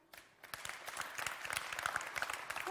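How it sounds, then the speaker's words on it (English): Audience clapping to vote by show of hands at a tourism forum in Lucerne, a steady patter of many hands after a brief quiet start, filling a hall at moderate distance. "then please clap now"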